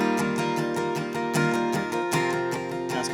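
A guitar strums a worship chord progression, moving to a 6 chord at the song's biggest point, with steady rhythmic strokes, bright ringing chords and a full, sustained sound throughout.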